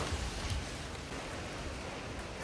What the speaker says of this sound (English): That's the rain currently pounding off the roof.